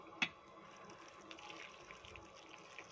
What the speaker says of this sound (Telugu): ఇందులోకి ఏం చేసుకోవాలంటే కొద్దిగా హాట్ వాటర్ని వేసుకోవాలి